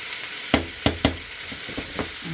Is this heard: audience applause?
no